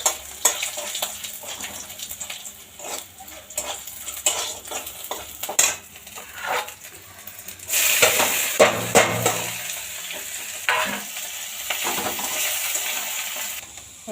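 Garlic and two dried chillies sizzle and crackle in hot oil for a tempering, with a spatula scraping and stirring and occasional utensil clinks against the pan, steady frying throughout and no talk.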